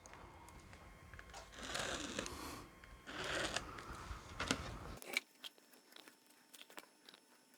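Sewing machine stitching the diagonal of a fabric patchwork block, two short buzzing runs close by, followed by a few soft clicks and handling noises.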